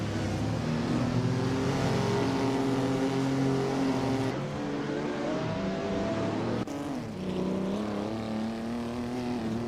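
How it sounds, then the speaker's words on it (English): Racing car engines roar continuously in a racing video game, loud and close, with rising and falling revs and gear-shift dips as cars jostle for position. "Bot Oxwolfi just overtook the car in front and is now in second place."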